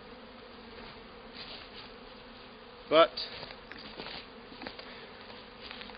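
Honey bees hum around the entrance of a hive in spring, a faint continuous buzz with one louder bee passing close by midway.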